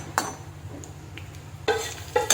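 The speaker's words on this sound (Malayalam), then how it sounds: "ഇതിന് ചെറുതായിട്ട് വെർമസലിയെ നെയ്യിലിട്ട് ചെറുതായിട്ട് മൂപ്പിച്ചെടുക്കുക" Vermicelli fries in ghee in a pan with a faint sizzle, broken by a few sharp clinks and scrapes of stirring from a spoon against the vessel.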